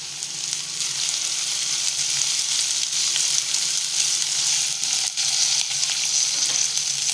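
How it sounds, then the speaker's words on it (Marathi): Curry leaves crackle in hot oil for a green pea and drumstick curry, making a loud, continuous, close frying sizzle that stays steady throughout, with no voices. "त्यात आपण टाकलं कढीपत्ता"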